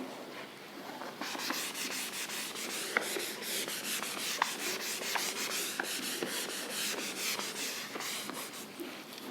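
A chemistry teacher rubs writing off a board in steady back-and-forth strokes, a continuous close scratchy swishing that lasts throughout, with no talking.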